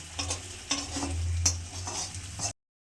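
Potatoes frying in hot oil in a wok, a steady close sizzle with a few stirring scrapes and clinks over about two and a half seconds, no voices.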